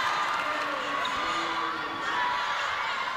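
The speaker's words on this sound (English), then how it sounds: "a couple in the crowd not agreeing with the umpires there" Spectators at a girls' secondary school netball third-place playoff between Epsom Girls and St Kentigern at the NZSS Netball Champs raise a steady, moderately loud crowd murmur with scattered shouts that rise slightly toward the end.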